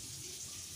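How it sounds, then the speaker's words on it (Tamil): Water runs from a newly fitted wall mixer tap in a bathroom, giving a faint, steady hiss with no break over a short stretch. "தண்ணி விட்டு செக் பண்ணிகிட்ருக்குறா."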